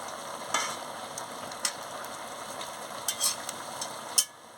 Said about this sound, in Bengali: এবার আমি সোয়াবিনটা দিয়ে দিচ্ছি, দিয়ে ভালো করে একটু নাড়িয়ে নিচ্ছি।